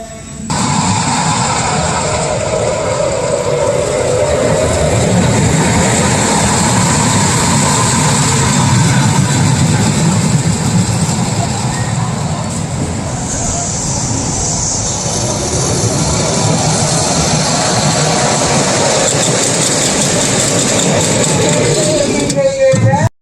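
A loud, continuous rumble and rattle of the Crazy Train roller coaster at Six Flags Great Adventure running along its track at night, with a roaring wind-like roar sustained throughout and no speech.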